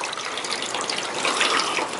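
Rainwater streams steadily off a roof near a flat roof section, a continuous close splashing gush with no voices.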